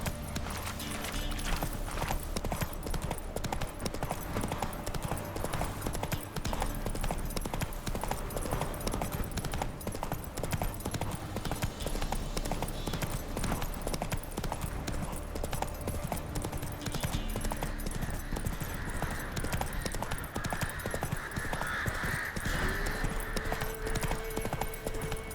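Horse hooves clip-clopping rapidly and steadily as a horse gallops in The Witcher 3: Wild Hunt, the rhythmic beats sitting under game music and ambience, with a brief tonal sound near the end.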